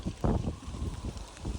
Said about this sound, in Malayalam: ഭയങ്കര കാറ്റാ. നിങ്ങൾ അടിക്കുന്ന കേൾക്കുന്നുണ്ടോ സൗണ്ട്?